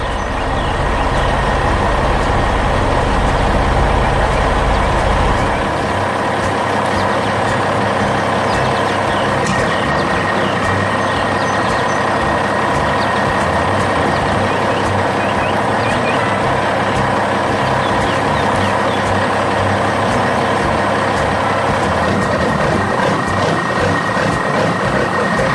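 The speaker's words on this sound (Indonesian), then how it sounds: "Lihat truk dump besar itu datang." A large dump truck hauling a load of stones at a construction site rumbles loudly and continuously, its engine droning close by for the whole stretch, with a steady high tonal beep running through it.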